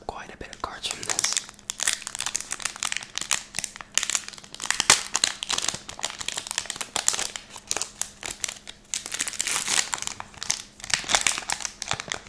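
Foil wrappers of Panini Prizm 2022 football card packs crinkle and tear close up, a steady stream of sharp rustling bursts that runs the whole length with brief pauses and soft handling noises between.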